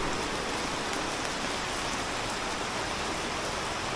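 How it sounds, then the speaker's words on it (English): Heavy rain pours down steadily on a city street, a dense, loud and unbroken hiss with no let-up and no voices over it. "Look at this rain."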